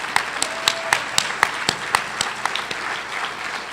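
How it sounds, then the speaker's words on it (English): Audience at the 2013 SCV Leadership Awards ceremony claps in a sparse, uneven patter of distinct hand claps, moderately loud and fairly close, with no one speaking over it. "how about a round of applause for all the nominees and all the winners so far?"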